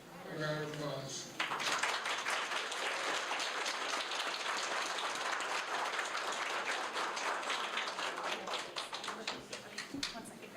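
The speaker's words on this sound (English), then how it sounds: "Please give her a round of applause" Audience applause welcoming Arizona Governor Katie Hobbs at a gathering of disability advocates, a dense steady burst of many hands clapping that starts after a brief voice and holds loud and even before thinning slightly at the end.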